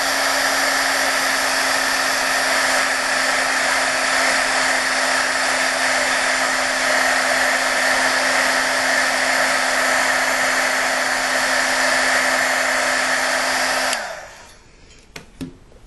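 A hair dryer blows on a watercolor painting with masking fluid, a loud steady whir that runs for about fourteen seconds before cutting off, followed by a few faint clicks.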